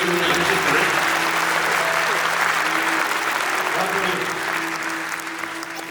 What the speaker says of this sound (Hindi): एक बार जोरदार तालियां बजा के मुझे आमंत्रित करें।